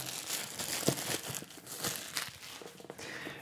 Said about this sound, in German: dafür müssen wir zuerst diese unschöne Folie entfernen